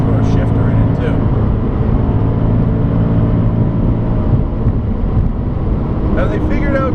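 A Scion FRS with TRD accessories accelerates flat out on a race track, a loud sustained engine drone under heavy wind and road noise inside the car, with a person talking at the start and near the end.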